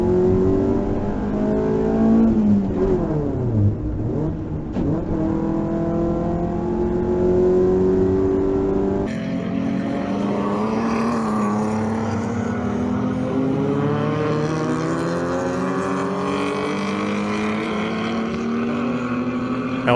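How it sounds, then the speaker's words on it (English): Improved production race cars, including a BMW, a Ford Falcon and a Toyota Altezza, race at Hampton Downs; a loud in-car engine revs and shifts through gears, rising and falling continuously, with other cars close by. "Watson has a good look down the inside of Devoy's Falcon while I make up lost ground."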